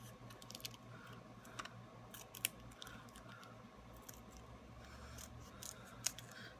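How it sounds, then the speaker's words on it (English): Scissors snip a small strip from the edge of a piece of foam, producing faint, sharp clicks and crisp cuts scattered over a quiet background. "I'm going to take this foam and I'm going to cut just a little strip from the edge here"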